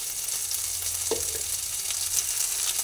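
Ginger and spices fry in hot oil in a pan for a Bengali dish of Malabar spinach with hilsa fish head, a steady close sizzle with one brief scrape of stirring.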